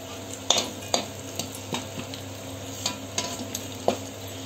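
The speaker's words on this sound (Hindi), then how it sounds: "अब देखिए राई तड़क जाएगी, मैं इसमें डालूंगी दाना मेथी" Mustard seeds and fenugreek seeds crackle in hot oil for Kathiyawadi dal dhokli, with irregular sharp pops and a utensil clink over a low, steady sizzle.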